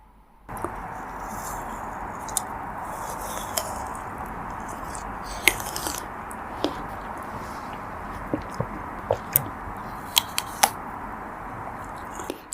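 Crisp, scattered crunching bites into a chocolate-shell strawberry ice cream bar, with a dozen or so sharp snaps and cracks over a continuous close-up background, no talking.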